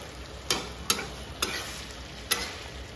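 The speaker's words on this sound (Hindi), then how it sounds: "इसको काफ़ी अच्छे से मिक्स करना होगा।" A spoon stirs a curry spiced with cumin powder in a pan: four sharp scrapes and clicks about half a second apart over a soft, quiet fry, with no voices.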